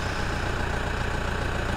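A car engine idling steadily with a continuous low mid-range rumble and vibration, after starting on the second try; no distinct cranking is evident, only the even running hum throughout.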